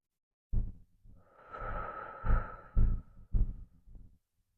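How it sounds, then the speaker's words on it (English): A slow, airy exhale is blown out through pursed lips during a gentle movement practice for anxiety relief. The breath is close and soft, stretches over a few seconds, and has a few light thumps around it. "slow down the exhale, you can blow it out through your lips"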